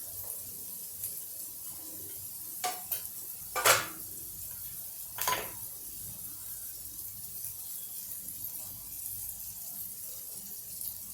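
Oil sizzles in a pan over a low gas flame while masala pav is being cooked: a faint, steady hiss broken by a few sharp clicks and stirring knocks.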